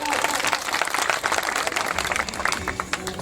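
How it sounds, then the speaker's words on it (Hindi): Crowd applause at a traders' association gathering as a guest arrives, a lively mix of clapping over a sustained, echoing room din with voices mixed in. "उनकी तालियां हो जाए।"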